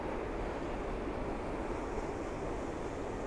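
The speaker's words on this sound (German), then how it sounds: "Da ist schon der nächste Wasserfall." Steady broadband rushing of a waterfall in the Black Forest, continuous and fairly loud, with no other distinct sounds or voices.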